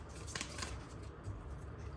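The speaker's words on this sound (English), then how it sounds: "I'll give it a good shuffle and then I'll ask." A deck of tarot cards being shuffled by hand, giving a soft, papery riffling and rustling that runs steadily for a couple of seconds at close range with no voices.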